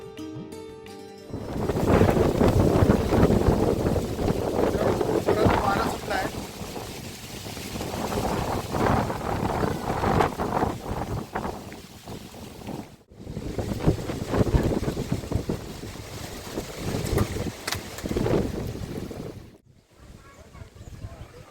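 Strong wind gusts buffet the microphone outdoors on a cloudy hillside in Purandar taluka near Pune, a loud broadband roar that swells and drops with brief lulls near 13 and 20 seconds.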